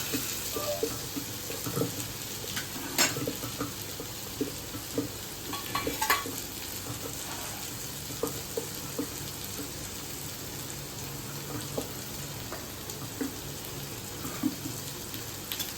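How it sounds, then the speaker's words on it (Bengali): A pot boils and steams on a home stove during the cooking of a Bengali fish curry and steamed dishes, giving a steady, fairly soft bubbling hiss with scattered small pops and light clinks. "এটাও ফুটছে, কি সুন্দর ভাপে হচ্ছে, একটা আওয়াজ আসছে, দেখুন।"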